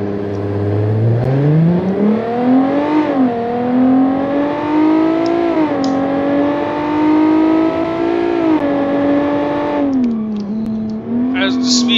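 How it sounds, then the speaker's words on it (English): Car engine in the BeamNG driving game with an Automation-built Brute Ecobox, revving up from low with rising whine, shifting through gears with repeated climbs and dips, loud and close, with a person talking over it. "as you saw me accelerating, it's super fast"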